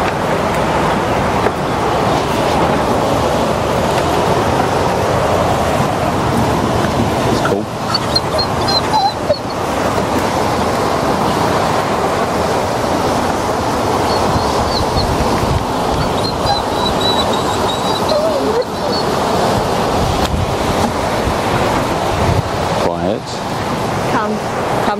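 Powerful water jet gushing from Caban Coch Dam in the Elan Valley, a loud, steady roar of rushing water filling the whole clip, with a brief dip partway through and occasional voices faint underneath.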